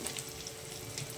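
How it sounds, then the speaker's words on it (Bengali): Lentil fritters (bora) fry in hot oil with a steady, close crackling sizzle that fills the short moment before cutting off abruptly. "এবার একটা একটা করে ভেজে ফেলবো।"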